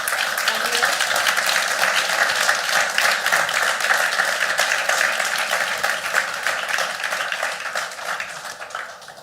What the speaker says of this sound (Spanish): me gustaría que les deis un fuerte aplauso